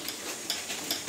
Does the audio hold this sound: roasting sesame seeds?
yes